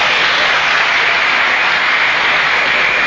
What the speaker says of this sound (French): il me semble que vos applaudissements sont un peu constipés